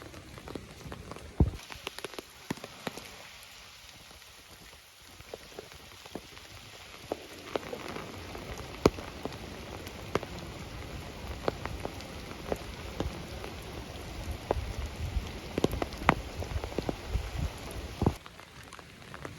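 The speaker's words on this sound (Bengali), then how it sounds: "এখন আবার বৃষ্টি শুরু হয়েছে।" Rain falls steadily on a rural village road, a dense hiss of drops with scattered sharper splashes and taps, moderately faint and continuous for about twenty seconds, with no speech.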